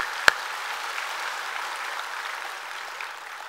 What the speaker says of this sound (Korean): 여러분 박수 한번 하시죠.